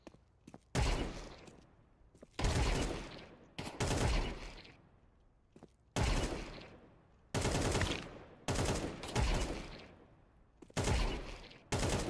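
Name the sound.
gunfire from bots in Counter-Strike 2 video game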